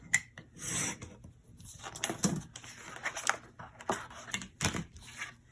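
Pieces being cut for repurposed art, a series of irregular scraping and rasping strokes with short pauses between them, close and quiet, no speech.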